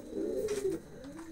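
Pigeons gathered on the ground in the evening give a soft, low cooing call, faint and close, with a quiet murmur of city background.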